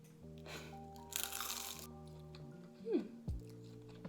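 Crunchy fried turon, a sweet banana spring roll, is bitten and chewed close to the mic, with a few crisp crackling bites and soft chewing between them over quiet background noise.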